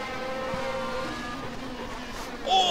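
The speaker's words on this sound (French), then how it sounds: "On est à bord de la voiture de David Lespèce" Onboard a Norma M20 prototype race car lapping the Lédenon circuit in a 2017 French cup race, the engine drones steadily with rising and falling harmonic pitch through gear changes, loud and close, building toward a sharper whine at the end.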